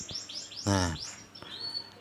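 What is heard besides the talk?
canary chirping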